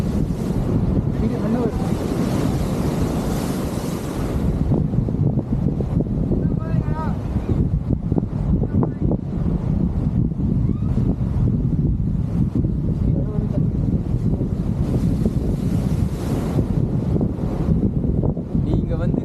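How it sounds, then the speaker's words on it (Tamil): Sea waves surge and crash against shoreline rocks in steady, loud washes, heavy wind buffeting the microphone throughout with someone talking over the roar. "அலை வந்தாச்சுன்னா எவ்வளோ ஹைட்டாக தூக்கும் பாருங்க"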